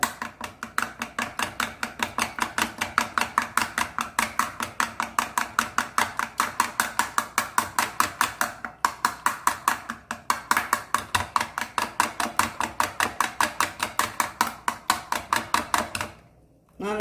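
A spoon beats eggs into a coconut mixture in a bowl, striking in a fast, even rhythm of close, crisp clacks that carry on without a break until near the end.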